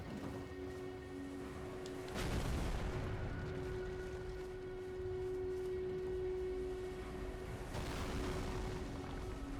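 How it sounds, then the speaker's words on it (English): Catapults in the fantasy game Elden Ring fire in heavy booming thuds, two distinct impacts rising over a constant low rumble and ambient hum, without talk. "They've got catapults."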